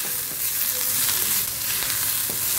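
Dried red chillies fry in oil alongside eggs, a continuous bright sizzle with faint crackles and light pan stirring throughout, close and steady.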